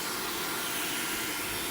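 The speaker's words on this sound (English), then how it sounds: "Then I take the blow dryer and this is going to dry my lashes up and curl them." A handheld blow dryer, aimed at eyelashes to dry and curl them, blows with a steady, close, whooshing hum that stays even from start to finish, with no talking.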